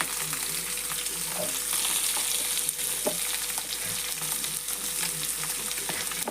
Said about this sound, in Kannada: ಎಲ್ಲ ಹಾಕ್ಕೊಂಡು ಸ್ವಲ್ಪ ಹುರಿಬೇಕು ಎಲ್ಲ ಹತ್ತಬೇಕು